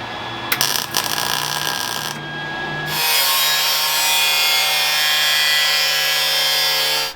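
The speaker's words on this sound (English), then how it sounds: "I'm cutting through both panels at the same time, which is what gives me this perfect weld gap" A power tool cutting through two overlapping steel quarter panels on a rotted Ford Galaxie produces a steady, loud, high-pitched grinding whine, preceded by a few seconds of lower rasping and clattering shop noise.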